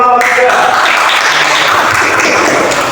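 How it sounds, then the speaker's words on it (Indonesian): Students applauding in a classroom, a loud, dense burst of clapping that runs steadily throughout, with voices mixed in. "Oke, tepuk tangan untuk kelompok tiga."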